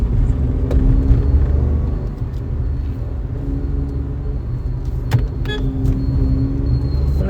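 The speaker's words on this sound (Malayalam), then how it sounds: "സലേറിയൽ എഞ്ചിന്റെ സൗണ്ട് നന്നായിട്ട് കാണുന്നുണ്ടല്ലേ" Maruti Celerio car engine runs steadily from inside the cabin while driving on a road toward Madayipara in Kannur at dusk, a loud continuous low hum and rumble with occasional faint clicks.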